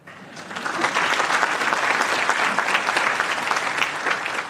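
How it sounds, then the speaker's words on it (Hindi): An audience at a talk bursts into steady applause, dense and loud, many hands clapping at close range for several seconds without a break. "बजाओ ताली।"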